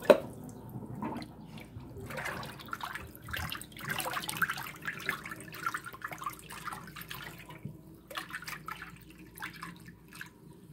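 Water draining from a sink through a Whirlpool garbage disposal, a continuous gurgling, trickling wash with small splashy drips, fairly close and steady with no talk over it.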